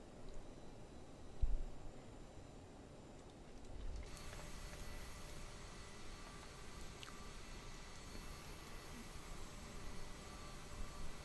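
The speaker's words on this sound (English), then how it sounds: "we will now taxi straight out on taxiway Kilo" A CRJ 900 airliner taxis out in a flight simulator on an SAS flight from Copenhagen to Oslo, giving a faint, steady jet-engine drone that grows slightly fuller and brighter partway through, with no talk.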